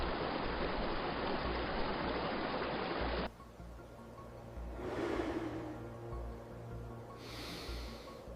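A forest river flows steadily, a loud broadband rush that drops abruptly partway through to a quieter, distant water murmur with faint rustling.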